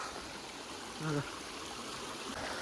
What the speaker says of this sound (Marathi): इथं पाणी वाहत आहे